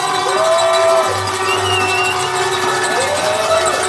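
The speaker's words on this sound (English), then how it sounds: "Good crowd on hand." Crowd at a youth hockey semi-final between Jr. Kings and Team Minnesota in Quebec, a loud, steady arena roar with sustained tonal sounds and rising and falling pitched tones running through it.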